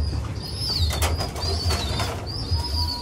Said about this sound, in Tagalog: mga ibon natin doon sa labas lumilipad